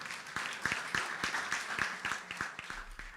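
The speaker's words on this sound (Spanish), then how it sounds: "Un fuerte aplauso para nuestros invitados y para nuestro autor." Applause from the audience at a book launch in honor of the guests and the author, a steady wash of clapping with some sharper, evenly spaced claps standing out across the whole stretch.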